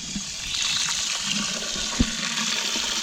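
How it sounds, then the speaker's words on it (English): Water gushes and splashes steadily into a water butt on an allotment, a continuous hissing pour with a brief knock partway through. "Well, here I am, running water,"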